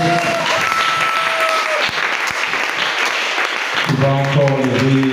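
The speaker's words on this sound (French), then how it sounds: "Acclame encore pour Jésus." Congregation applause acclaiming Jesus at a French-language church gathering, loud sustained clapping with a few sharp claps, joined near the end by voices rising over it.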